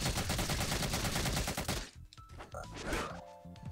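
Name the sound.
Solid Snake gun reload taunt, Rivals of Aether video game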